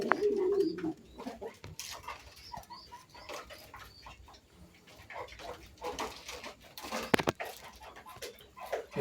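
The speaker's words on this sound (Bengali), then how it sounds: "এই বাচ্চা খাওয়াচ্ছে দেখে শব্দ করতেছে" Pigeon chicks of bombay and house pigeon breeds calling while being fed on a farm, faint squeaky cheeps and soft cooing with rustling and fluttering, close by.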